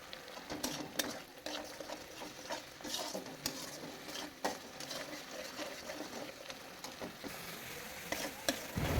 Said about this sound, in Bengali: জলটা একদম কমিয়ে দিয়েছি আর লাল লাল করে কষিয়ে নিয়েছি এখানে তেলটা ছেড়ে গেছে